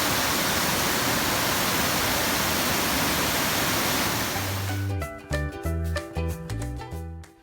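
Rushing water from a waterfall and streams along a Ghat road gives a dense, steady roar for about five seconds, then cuts abruptly into muffled thumping, broken sound.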